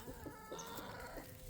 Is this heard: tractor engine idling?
no